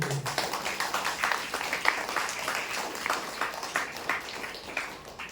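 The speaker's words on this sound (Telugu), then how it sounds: "చప్పట్లు కొట్టండి." An audience at a church gathering claps steadily, many hands producing a dense, even patter of applause that continues throughout.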